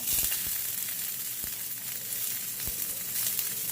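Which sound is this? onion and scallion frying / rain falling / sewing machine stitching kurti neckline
onion and scallion frying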